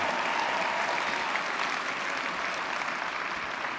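Steady audience applause fills a large conference hall during a 2022 Shaklee keynote address, a dense, even wash of clapping from many hands that holds at the same level throughout, with no voices over it.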